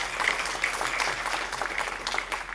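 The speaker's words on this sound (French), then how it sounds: "Applaudissements mérités pour les deux." Audience applause after a talk on lawyers and searches, a steady broadband clatter of many hands clapping at moderate volume for a few seconds, with no voices over it.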